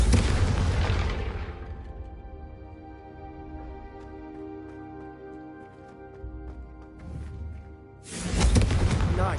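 Confringo fire spells strike targets in the Hogwarts Legacy game, bursting as loud, booming explosions at the start and again near the end, with a sustained musical score filling the quieter stretch in between.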